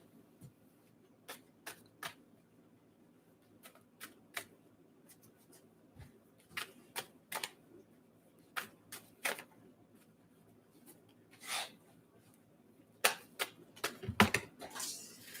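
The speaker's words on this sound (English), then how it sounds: "those cards really just flew out of the deck" Tarot cards are shuffled in a quiet room, giving a string of sharp, irregular flicks and snaps, with a denser flurry near the end as cards fly out of the deck.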